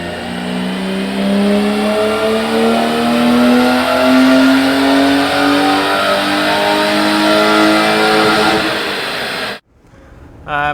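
A roughly 200-horsepower car with a fairly standard engine revs hard on dynamometer rollers, a loud sustained climbing engine tone with rising harmonics that cuts off abruptly near the end.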